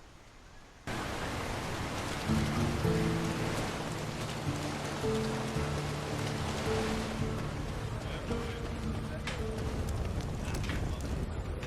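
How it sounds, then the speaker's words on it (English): Steady rain falls in a dark fantasy setting in the game LOTR: War in the North, a dense continuous hiss under sustained low music tones, with some faint voice activity. "I don't think this place ever stops raining, by the way."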